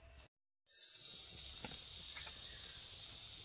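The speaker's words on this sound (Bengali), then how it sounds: "আদা রসুনটাকে হালকা ভেজে নেব।" Ginger garlic paste sizzles in a hot dry pan with no oil, a steady close hiss that starts abruptly after a brief silence and continues evenly, with faint scraping.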